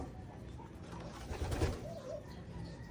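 Pigeons coo softly in the background during recall training, a low murmuring call rising briefly near the middle over faint outdoor ambience.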